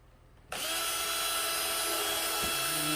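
Power drill driving a screw into wood, starting abruptly and whining steadily at close range for a few seconds, with a brief dip in pitch near the end as the screw seats.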